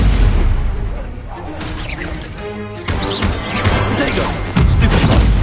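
Spell effects in a Harry Potter video game as the Incendio fire spell is cast, loud crashing whooshes and booming impacts in quick succession, with a voice briefly heard among them.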